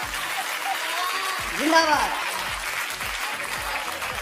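An audience at a Hindi comedy poetry show (hasya kavi sammelan) applauds in a continuous wash, with a voice shouting a cheer partway through.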